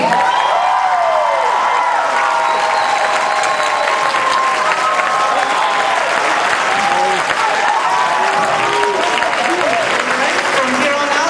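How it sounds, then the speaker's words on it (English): A convention panel audience at Anime Expo gives a voice actress a loud, sustained round of applause mixed with cheers and whoops, close and full throughout. "So please give another round of applause for Kari Wahlgren."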